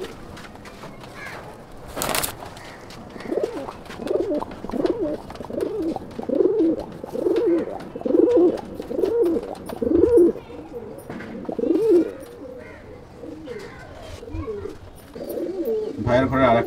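Pigeons coo repeatedly in a loft of fancy breeds, a steady series of low rolling calls close by over faint background noise, with a sharp knock near the start.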